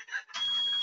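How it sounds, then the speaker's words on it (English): A smoke alarm in a house sounds while a Chinese meal is being cooked, a brief shrill high-pitched tone that holds steady for under a second, at a moderate level, with no talking. "That was my fire alarm going off."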